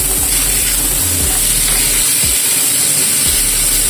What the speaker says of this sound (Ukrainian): Дивіться, як воно гарно смажилося.